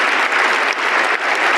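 Steady applause from an assembled crowd in a congressional chamber, a dense wash of many hands clapping loudly and continuously without pause.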